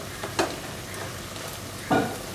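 Salted kovakka (ivy gourd) thoran is stirred in a pan, giving two brief, soft scraping strokes about a second and a half apart over a quiet background.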